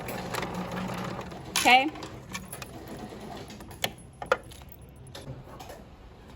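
A sewing machine backstitches the trim on a pillowcase, giving a few short, soft runs of stitching and light mechanical clicks beneath a person talking.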